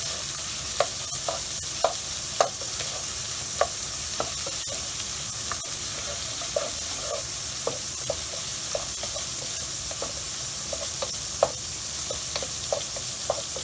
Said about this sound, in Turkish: önce bir kaşık domates salçasını 2 dakika kavuracağız